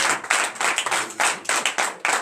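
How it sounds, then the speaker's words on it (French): An audience at a morning prayer service claps in acclamation of the Lord. The loud, close bursts of hands clapping rise and fall in uneven waves. "Donnez l'acclamation à notre Seigneur"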